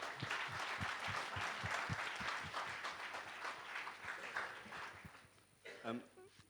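Conference audience clapping for a speaker, a moderate burst of applause with some distinct individual claps that fades, and a voice begins at the end.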